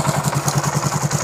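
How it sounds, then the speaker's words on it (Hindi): A TVS XL 100 iTouch moped engine runs just after starting, a close, steady, rapid putter with an even pulsing beat. "और गाड़ी स्टार्ट है और प्रॉपर तरीके से जो है बाइक स्टार्ट हो रही है"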